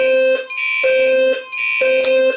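Alarm system set off with a key: a loud, close electronic two-tone alarm repeating in short bursts about every three-quarters of a second, with nothing else heard.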